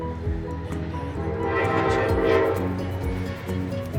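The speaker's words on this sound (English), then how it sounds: "You can see out there on the Hudson River, the train's going by down to New York City." A passenger train running along the Hudson River toward New York City sounds a loud, sustained horn over its rumbling wheels, heard from a distance without any talk.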